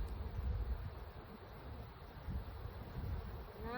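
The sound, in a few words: honey bees buzzing at hive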